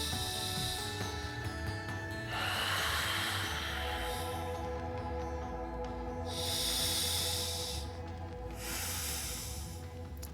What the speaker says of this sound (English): Soft exhale breaths, releasing tension.